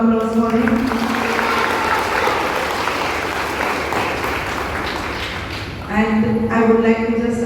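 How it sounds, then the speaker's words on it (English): Round of applause from the audience at an NCC troop raising day event, steady dense clapping filling most of the stretch, with someone speaking before it starts and again as it ends. "A big round of applause for him."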